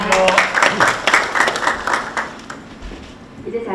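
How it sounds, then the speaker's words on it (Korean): Applause at a Busan city council forum on labor conditions in privately contracted public agencies greets an attending council member. Many hands clap briskly and fairly close, then the clapping thins and fades out within a few seconds. "박수 부탁드립니다."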